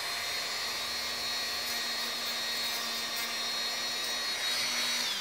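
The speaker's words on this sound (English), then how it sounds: "I'm gonna take my Dremel saw and just touch it right there" Dremel saw trimming a small bump on a coping cut in wooden shoemold window trim, a steady high whine held close for the whole stretch.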